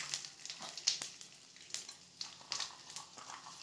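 Bay leaves and panch phoron spices crackle in hot oil, a quiet, uneven sputter with scattered pops and short bursts of sizzle, heard close and alone.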